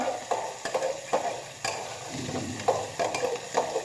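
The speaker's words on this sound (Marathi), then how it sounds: "पावट्याचं पावटे आपण भाजून घेत आहोत" Pavta beans roast in oil with cumin and mustard seeds, a soft continuous sizzle broken by repeated scraping stirs and light clinks of a spatula against the pan, close and without talk.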